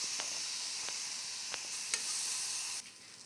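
Chopped tomatoes sizzle loudly in a hot frying pan for a Kochu dish, a steady bright hiss broken by a few sharp crackles and pops before it quiets slightly near the end.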